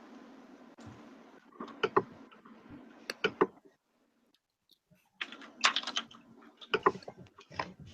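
Keystrokes on a computer keyboard entering a spreadsheet quartile formula, heard as irregular bursts of clicks with pauses between them, close and moderately loud over a faint room background.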